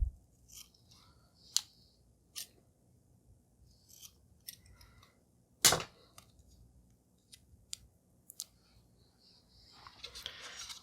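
Scissors trimming a printed label-maker label to length, a few crisp, close snips spread out over quiet, one louder cut standing out, with light rustling handling at the end.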